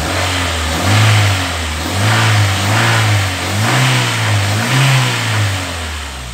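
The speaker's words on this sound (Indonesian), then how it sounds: "Kita gas dulu biar bercampur." A car engine with Coca-Cola poured into its radiator revs repeatedly, rising and falling in several close, loud surges over a steady idle, with no voices.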